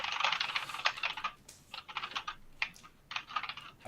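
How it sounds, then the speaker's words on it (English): Rapid typing on a computer keyboard, close and crisp, with bursts of quick keystrokes separated by short pauses. "I really wish my computer would listen to you typing and everybody typing"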